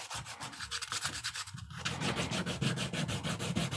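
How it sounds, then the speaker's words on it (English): Hand sanding a carved wooden owl, a steady close rasping rub with rhythmic back-and-forth strokes that quicken and grow louder partway through. "And the sanding part takes a while."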